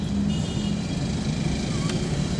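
A car pulls away during a driving lesson as the clutch comes fully up and the accelerator is pressed. Its engine gives a steady, close rumble that holds evenly throughout.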